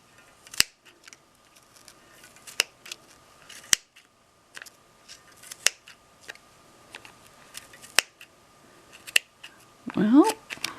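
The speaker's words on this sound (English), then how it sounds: "these are Fisker snips. It says they're easy action" Fiskars Easy Action snips snipping through pom pom yarn, giving a handful of sharp, separate clicks spread through the clip and a louder rustling burst at the end, while people talk.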